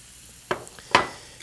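A sizzling dish in a pan with cream and black pepper is given two quick stirs, each a short scraping rush over a faint, steady sizzle.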